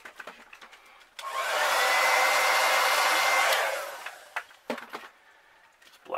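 A heat gun blows hot air to heat-set paint on a Renegade Gill crankbait lure: a steady, loud whoosh that lasts about two and a half seconds, then cuts off. Faint clicks and handling noises come before and after it.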